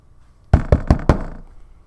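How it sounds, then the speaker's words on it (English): Four sharp knocks in a quick, even run, loud and close against quiet room background. "I just knocked."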